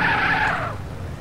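A car skidding in the video game GTA, a short loud tire squeal that drops in pitch and fades within about a second over a low engine rumble.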